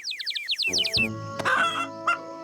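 Cartoon chickens cluck and chirp in quick bursts, with high peeping calls of a chick at first, then fuller clucking of grown chickens close by and fairly loud.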